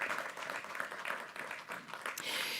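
An audience at a corporate capital markets day gives a round of applause, a short wash of scattered clapping that swells and fades over a few seconds.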